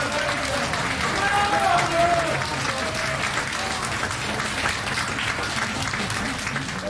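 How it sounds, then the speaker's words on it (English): A crowd applauds in a sustained wash of clapping while a voice talks over it. "Now watch as the applause come in"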